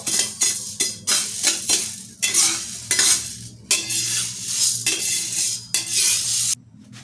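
Mung beans being dry-roasted in a pan are stirred in a run of rhythmic, close scraping strokes, each a short gritty rattle of beans against metal, separated by brief pauses.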